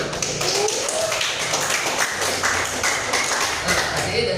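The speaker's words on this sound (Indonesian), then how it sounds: "Tepuk tangan." A classroom of students clapping their hands together on cue, a dense steady patter of many claps that fills the room for several seconds, loud and close.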